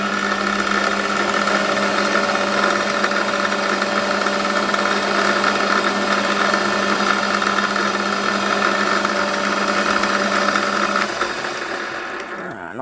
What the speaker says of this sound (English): So we're just going to centre drill this